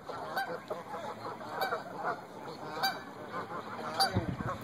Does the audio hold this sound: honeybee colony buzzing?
no